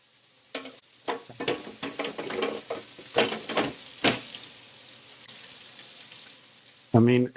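Pork carnitas frying in a pan, giving scattered bursts of crackling sizzle and a few clinks, fairly faint and intermittent, ending in a louder spitting burst.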